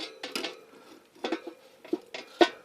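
Naan bread flipped in a frying pan over a campfire: a few quiet metallic clinks and scrapes of pan and utensil, spread unevenly over a couple of seconds.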